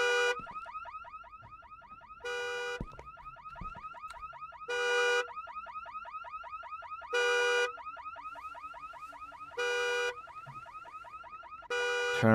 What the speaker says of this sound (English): Turn off the damn alarm.